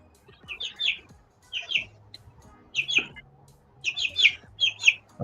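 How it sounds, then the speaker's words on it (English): Sharp, high chirping calls come in short clustered bursts, about five groups with brief gaps between them, fairly close and clear over a quiet outdoor background with a faint low hum. "I got a chicken on the loose over here. Yeah, I hear the cheaping."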